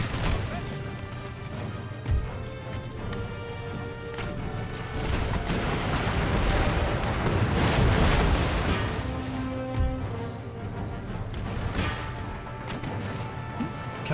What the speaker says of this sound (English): Start switching to canister shots.